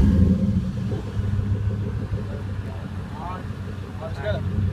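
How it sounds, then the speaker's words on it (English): A truck engine rumbles low and steady, idling with a slight swell at the end, while people talk over it nearby. "let me start my truck up"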